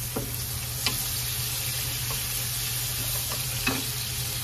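Garlic sautéing in a pan for sweet and sour fish, a steady soft sizzle with a few faint spatula taps scattered through, close and alone with no talk.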